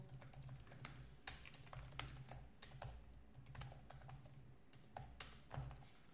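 Rapid, irregular keystrokes on a computer keyboard, close and crisp, with bursts of taps and short pauses over a quiet background and no one talking.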